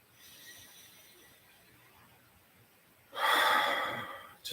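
A single audible breath comes during a guided meditation: a soft, airy inhale rises near the end after a quiet, hushed stretch.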